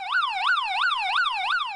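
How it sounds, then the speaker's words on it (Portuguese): Neighbourhood security alarm siren wailing outdoors, a loud, steady electronic whoop rising and falling in a regular cycle about three times per second, alone without voices. "quando tem alguém em atitude suspeita, um carro suspeito na rua, o morador vem e aciona a sirene."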